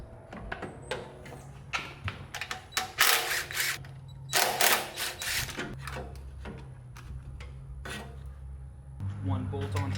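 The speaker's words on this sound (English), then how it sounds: "So now I'm going to pull the carburetor off." Metal parts clank, scrape and rattle while a carburetor is pulled off a rare Miller generator/welder. The close, uneven knocks and clinks of tools and housing pieces come in bursts, with a denser cluster around the middle.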